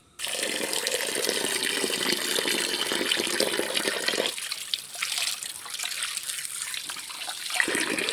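Tap water runs steadily while raw chicken is washed, a continuous close rushing stream that shifts in tone as the chicken moves under the flow, with no voices.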